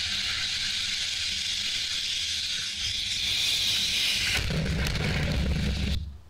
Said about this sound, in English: Here's SpaceX landing their first rocket on its feet.